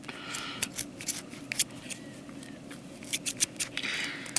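Scissors snip through cord in a series of short, crisp cuts, some single and some in quick clusters, close up and alone with no talk.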